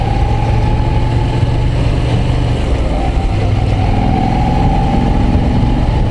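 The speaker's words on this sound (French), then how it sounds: "Ah ouais, ce moteur, c'est un régal." A Moto Guzzi V9 Roamer V-twin motorcycle engine runs loud and close with a steady, throbbing low drone while riding, with a faint whine above it and no voices.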